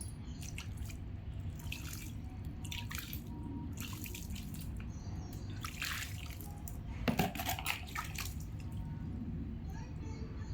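Water is poured around a newly planted cardamom plant in a terrace garden, making a faint, steady splashing and dripping with a few brief louder gushes.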